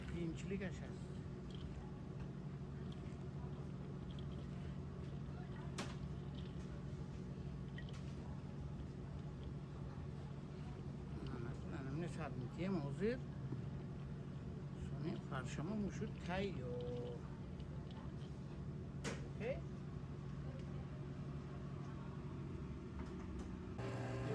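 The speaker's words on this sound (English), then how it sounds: "We pass our minced meat with onions through the grinder a second time, resulting in a uniform mass." A meat grinder minces meat mixed with onions, a low continuous motor drone with faint intermittent clatter, while people talk over it in the background.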